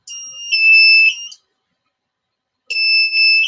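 A breathalyser gives two loud, sustained electronic beeps, each about a second long, separated by a short silence, high-pitched and close.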